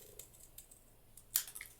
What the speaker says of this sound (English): Don't know if I trust myself to cut it with my scissors